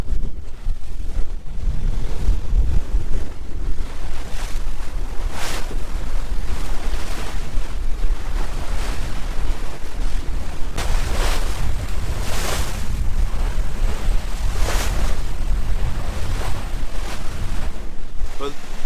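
A sailboat crossing Biscay pitches through choppy tidal overfalls where tide runs with the boat and wind against it, with steady gusting wind buffeting the microphone and repeated waves sloshing and crashing against the hull.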